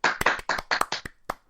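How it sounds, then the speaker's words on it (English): A small group on a boxing podcast claps briefly for a funny name, a quick run of close hand claps that thins into a few scattered final claps. "Give him a clap, Ayaz. Give him a clap."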